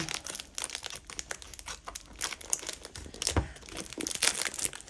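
Tape and packaging being torn and crinkled while opening an eBay parcel of vintage brooches heavily sealed with tape, a steady run of close, dense crackling rips and rustles with no talking.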